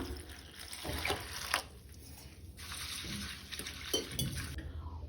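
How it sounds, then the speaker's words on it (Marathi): Flattened rice (poha) for Goan-style potato poha is rinsed in water in a vessel, giving soft close sloshing and splashing with occasional light clinks of the container, fairly quiet throughout. "फोव दोनदा उदकान धुवन घेता।"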